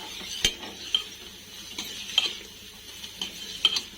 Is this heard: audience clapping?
no